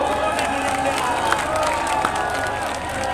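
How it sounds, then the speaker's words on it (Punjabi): A crowd at a live outdoor music show claps and cheers for farmers, a dense, steady wash of applause and shouting that holds at an even level for a few seconds. "ਇੱਕ ਤਾੜੀ ਕਿਸਾਨੀ ਦੇ ਨਾਲ ਜ਼ੋਰਦਾਰ"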